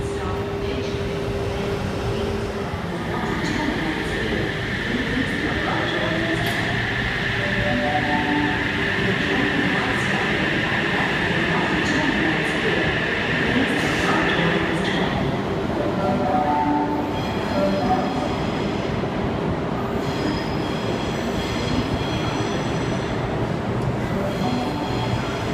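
Sydney Trains sets H35 and H24 pulling into and terminating at platform 1 at Bondi Junction, a continuous close rumble of rolling stock with a sustained high brake squeal that stops midway, followed by quieter idling hum.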